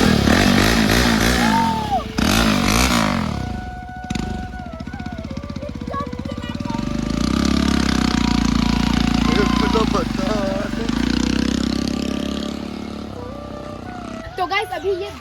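A superbike engine fires up and revs, its loud rumble rising and falling in throttle bursts with a steady idle between, while someone talks over it.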